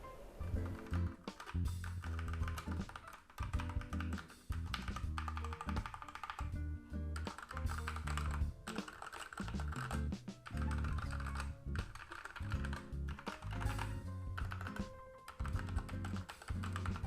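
Typing on a Corsair K60 TKL keyboard, a dense, continuous stream of clicky key presses with uneven bursts and brief pauses, fairly quiet and heard without talk.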